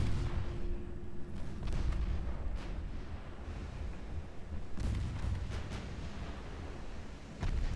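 Battleship guns boom repeatedly in a naval battle in Ultimate Admiral Dreadnoughts, with deep, rumbling salvos that overlap against constant low engine and sea noise.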